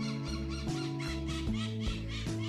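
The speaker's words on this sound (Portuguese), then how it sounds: "Ao som do nosso amigo periquito." Parakeet squawks repeatedly in a home vegetable garden, shrill harsh calls every half second or so, fairly close and loud with no talking over them.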